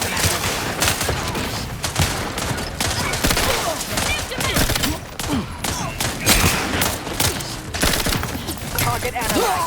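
Loud, dense gunfire in a The Outer Worlds 2 combat sequence, with rapid overlapping bursts and single cracks firing almost nonstop and only short gaps between volleys.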